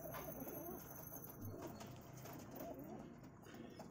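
Giribaz pigeons cooing softly among a group of birds, low repeated coos with occasional wing flutters, faint and close under a steady background hum.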